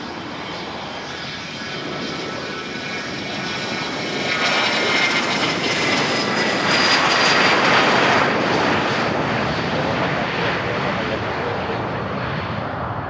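A private jet at Van Nuys Airport roars steadily as it lands or takes off, the engine noise swelling louder through the middle and holding strong, with a high whine laid over the broad rumble.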